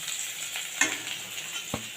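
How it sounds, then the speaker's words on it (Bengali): Pointed gourd (potol) pieces fry gently in oil over low heat with a soft, quiet sizzle, while a utensil gives a couple of brief stirring scrapes. No voices are heard. "কম আঁচ করে করে একটু হালকা রং ধরা তক্ষ আমি ভেজে নিলাম পটলগুলো"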